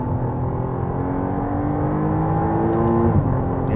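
McLaren Artura hybrid V6 sports car accelerating, a steady sustained engine drone with rising tone, fairly close and even in loudness throughout, no voices.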